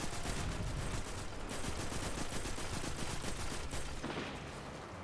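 Hand cannon fire and explosions in a video game make a loud, dense, rapid barrage of gunshot cracks over a sustained roar, easing slightly near the end, with no talking.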